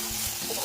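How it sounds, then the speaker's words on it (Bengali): A spice mix of turmeric, Kashmiri chilli powder, cumin powder and salt sizzles in a pan as it is stirred and fried for a prawn malai curry made without coconut milk. The sound is a short, close, steady frying hiss with soft scraping. "এবার মশলাটাকে ভালো করে কষিয়ে নিই"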